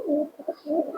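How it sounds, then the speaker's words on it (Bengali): Pigeon held in the hand, a four-eyed tumbler from a West Bengal flying tournament, gives close, soft cooing in two rolling phrases with a brief pause between them, heard on its own. "চার চোখো কবুতর আছে"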